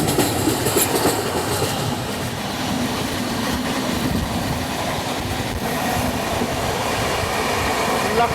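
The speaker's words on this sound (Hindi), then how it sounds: "लखनऊ रायपुर गरीब रथ एक्सप्रेस" Lucknow–Raipur Garib Rath Express train rolling past on a foggy day, a steady loud rumble of wagons with rhythmic wheel clatter and rail noise throughout, no voices.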